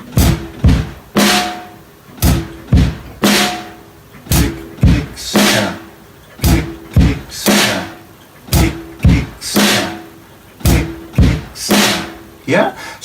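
A full drum kit groove with a quarter-note hi-hat: steady repeating kick, snare and cymbal hits in a tight rhythm, loud and close, playing alone without talk.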